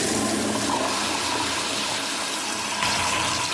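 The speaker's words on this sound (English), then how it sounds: "Tom hit the flush too." A toilet flushing in a restroom, a steady close rush of water that fills the whole short moment without pause.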